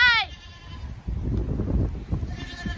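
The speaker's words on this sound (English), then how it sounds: "These are all her goats." Goats on a goat farm bleat, with one loud close bleat at the start and a fainter one near the end, while children and adults talk and move about in between.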